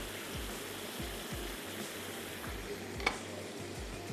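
Boiled mutton fries in a pan with garlic and ginger paste, a steady close sizzle broken by regular scraping strokes as the meat is stirred.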